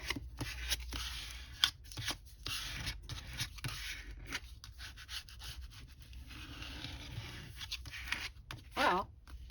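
Repeated rubbing and snipping sounds of scissors cutting paper, irregular short strokes with brief pauses, close and fairly quiet.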